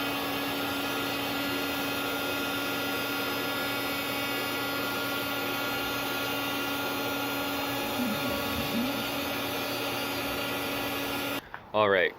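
A milling machine cuts plywood parts with a steady, continuous whine and hum that holds evenly for about eleven seconds, with a brief shift near the end and a sudden clunk as it stops.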